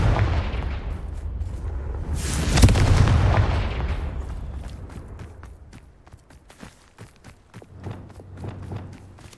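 Confringo fire-blast spell in Hogwarts Legacy: a loud booming blast near the start swells and fades, followed by scattered thuds and footsteps, with no talking.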